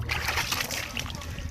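Water splashes and sloshes continuously over a car's wheels during a home rinse, a steady broadband spray that stays loud throughout, with a voice faintly present underneath.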